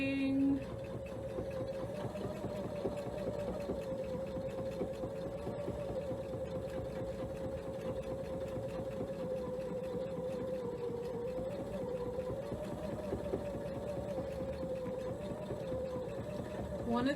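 A sewing machine runs a small bit of decorative stitching during a sewing demo, a faint, steady motor hum with a constant tone that holds for the whole stretch while people talk.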